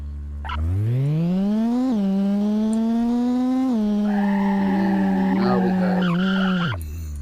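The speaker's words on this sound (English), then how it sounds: "Now we have squealing, and I'm getting stuck in the rocks, but squealing is working" Synthesized tire squeal from a car in a Unity racing video game: a single sustained tonal screech with steady harmonics that rises slightly, holds for about six seconds, then cuts off abruptly.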